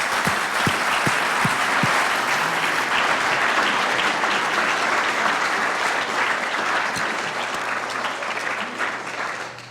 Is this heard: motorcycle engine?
no